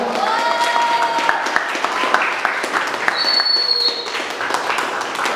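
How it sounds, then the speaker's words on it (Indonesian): An audience at a school debate for student council chair bursts into steady applause, dense clapping from a crowd filling the room, with a few voices and whistle-like tones over it. "tepuk tangan dulu semua"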